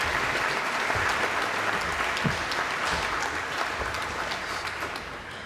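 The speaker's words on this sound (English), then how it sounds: "and please applause" An audience claps for the keynote speaker at a graduate anesthesia diploma ceremony, a full, even round of applause that carries on steadily and tapers slightly toward the end.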